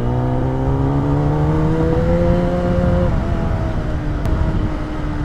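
A superbike on an evening ride revs loudly and steadily, its engine note climbing in pitch and then dropping off, with continuous close engine roar throughout.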